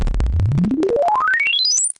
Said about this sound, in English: if you sweep a synthesizer tone across the range, you get a sound like this.